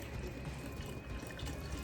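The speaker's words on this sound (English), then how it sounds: "And we're just gonna pour a little bit more, maybe about a cup or so." Chicken broth poured into a pot while making chicken and dumplings, a soft, steady liquid rush that runs unbroken and fairly quiet throughout.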